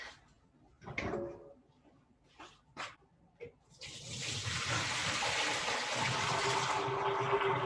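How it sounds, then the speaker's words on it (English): Pasta water pouring out of a pot into a kitchen sink during a cooking class, a steady loud rush and splash that begins after a few seconds of faint clatter and brief knocks and keeps going to the end. "Then I am just going to strain the pasta into the sink."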